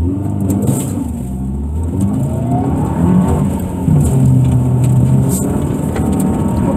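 A Subaru Impreza engine revs hard and accelerates during an ice racing autocross run, a loud close-up rising drone with gear-change dips and a higher sustained pull toward the end, no talk.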